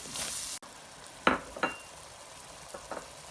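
Masala fries in a pan for daal mash. A brief hiss cuts off abruptly, followed by a quiet background and a few short scraping stirs and faint clinks.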